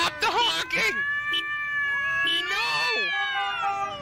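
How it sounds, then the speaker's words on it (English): Cats meow loudly and insistently at close range in a house, drawn-out wavering yowls following one another almost without pause. "Fucking cats, stop the honking."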